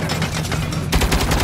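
Dense, loud automatic gunfire from the video game Saints Row rattles continuously, rapid overlapping shots filling the short burst.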